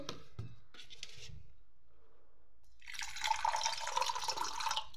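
Warm water for washing a child's face is handled in a container; after quiet early moments with faint brief clinks, a close, steady splashing and pouring of water begins partway through and continues to the end.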